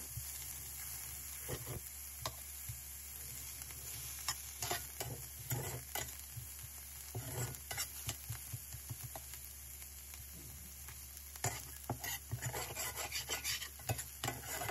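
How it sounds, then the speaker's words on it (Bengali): Chopped onions fry in butter in a pan for restaurant-style butter chicken: a steady low sizzle runs throughout, broken by frequent scraping stir strokes from a spoon, close and fairly quiet, with no voices. "এবারে সেম প্যানে দিয়ে দেব কেটে রাখা পেঁয়াজ আর 2 টেবিল চামচ বাটার"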